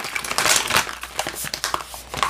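Plastic packaging of a diamond painting toolkit being opened, close-up crinkling and crunching with sharp bursts and rustles, loud and busy, no talk.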